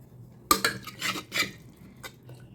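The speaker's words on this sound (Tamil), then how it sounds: "நல்லா வந்துட்டு மத்து வச்சு கடைஞ்சி விட்டேன்" Wooden masher churning cooked tomato thokku inside a pressure cooker, giving a sharp knock followed by several clattering, scraping strokes against the metal pot, close and moderately loud with no talk.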